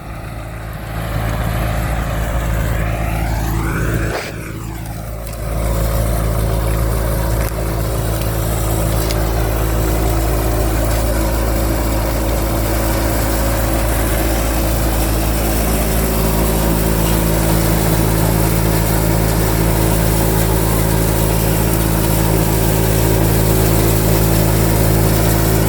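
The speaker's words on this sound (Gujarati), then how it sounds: "ઠેસરમાં ભાઈ સાઉન્ડ હેલિકોપ્ટર જેવું સાઉન્ડ આવે છે ઠેસરમાં" Engine of a threshing machine working on a farm during castor harvest, a loud droning mid-range hum with steady tonal layers and a rhythmic helicopter-like throb, briefly dipping near the start then running constantly.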